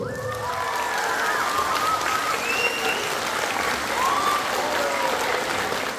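An audience at a workshop event applauds continuously, a dense and even clapping that lasts the whole time, with faint voices and whoops mixed in.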